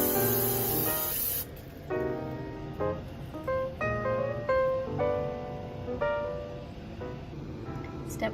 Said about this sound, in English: Coat large skillet with a non-stick cooking spray.